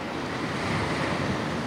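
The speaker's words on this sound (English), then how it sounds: "It was the splash of one of these waves." Ocean waves wash against the coast in a steady, loud, broadband roar with some wind noise, continuous for the whole short stretch and with no voices.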